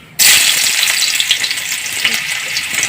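Food frying in a pan, a loud, steady broadband sizzle that starts abruptly and continues evenly throughout, with no talking.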